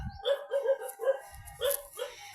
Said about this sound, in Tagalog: Tinatahol kami ng aso guys